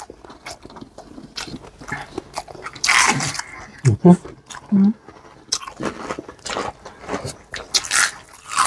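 Crisp crunching bites of lechon kawali, Filipino crispy fried pork belly skin, several sharp crunches mid-clip, with people talking around the chewing.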